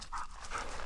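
A female hunting dog pants in quick, close breaths during an Arizona quail hunt, with a short run of rhythmic huffs over outdoor background noise.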